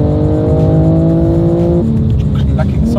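A car engine on a test track holds a loud, steady, buzzing tone close by, then drops in pitch partway through. Voices are faint in the background.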